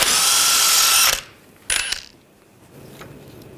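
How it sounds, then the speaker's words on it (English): A power tool with a 21mm socket whirs loudly for about a second while spinning a nut off a GMC Sierra front suspension, followed by a short second burst and a light metallic clink. "Now using a 21mm socket, we're going to take this nut off."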